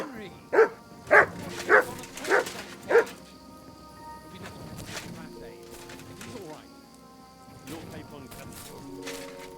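Mutt the dog in Kingdom Come: Deliverance 2 gives five sharp, loud barks in quick succession, close by. Quieter sounds and talk follow.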